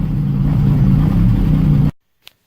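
Car engine running at mid pitch, loud and close, holding a steady revving drone before cutting off abruptly into silence, followed by a single faint click.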